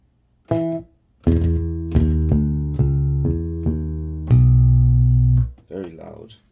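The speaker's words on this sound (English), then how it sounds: "I'm gonna load up a electric bass. Electric bass, there you go. Also from the Ensoniq library." Electric bass sample from the Ensoniq library played on an Ensoniq EPS sampler: a handful of deep plucked notes in an uneven sequence, the last one held longer, followed by a brief closing sound.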